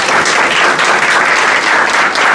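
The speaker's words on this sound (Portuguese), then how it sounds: "Uma salva de palmas pra ela." Audience at a professional talk breaking into steady, dense applause, loud and close, with no voices over it.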